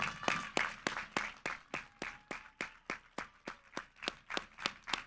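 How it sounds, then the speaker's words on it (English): Steady rhythmic clapping from a commencement audience honoring faculty, evenly spaced sharp claps about three per second, fairly quiet and heard on its own. "I want to applaud the faculty and staff"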